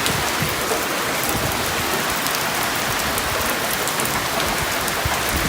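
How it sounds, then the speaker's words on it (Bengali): Heavy storm rain pours down in a Bangladeshi village, a loud, dense, unbroken hiss of drops on surfaces lasting throughout with no pauses. "প্রচন্ড ঝড় বৃষ্টি"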